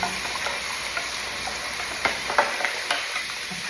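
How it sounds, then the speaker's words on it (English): Lamb stew ingredients being roughly stirred in a pan for Greek youvetsi, a soft, steady scraping with a faint sizzle underneath and a few sharper knocks near the end, close and fairly quiet with no talking. "So I'm just going to roughly stir that"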